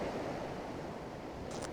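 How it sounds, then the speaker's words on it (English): Ocean waves roll in toward coastal sea stacks, giving a steady, broad wash of surf that stays even throughout, with wind noise in the background and no voices. "waves that are leading in to those stacks, sea stacks"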